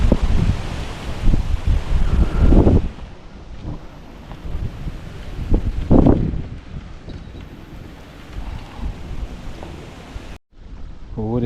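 Strong wind buffets the microphone while fishing outdoors, with loud gusts surging around three and six seconds, then a brief cutout near the end; a voice is faintly mixed in.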